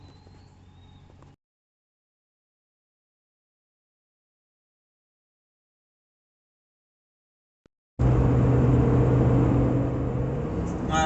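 Ram pickup with a Hemi engine on the road towing a 43-foot camper: a brief low road hum, then a gap of near silence before a loud, steady engine and road rumble returns and carries on to the end.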